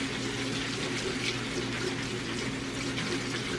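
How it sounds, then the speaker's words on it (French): Cold tap water runs steadily over a batch of large frozen mealworms being rinsed, a continuous, fairly close splashing rush with no pauses. "Alors, je vais les passer à l'eau froide."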